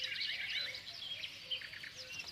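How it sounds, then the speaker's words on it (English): Recorded birdsong played as the placeholder on a classic music radio station's frequency before broadcast: steady bright chirps and trills running throughout, faint and continuous with no talk. "It's birdsong."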